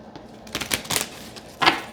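A thick deck of cards is shuffled in a few quick, crisp riffling bursts, close and clear with no talking.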